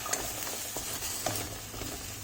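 Pasta with paneer is stirred in a hot pan, scraping and clicking utensil strokes over a soft steady sizzle, close and fairly quiet, with no talk.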